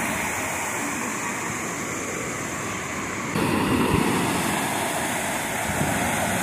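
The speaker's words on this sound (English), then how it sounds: "The waves." Ocean waves wash onto a beach in a continuous broadband rush, swelling louder midway as a wave breaks nearby, with no talking.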